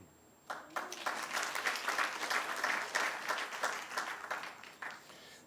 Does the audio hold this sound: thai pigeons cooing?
no